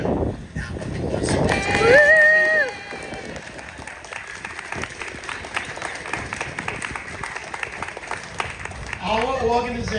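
Audience applause at a South Texas Bone & Joint opening ceremony, a moderate stretch of clapping that rises and fades, with voices and a bit of music around it.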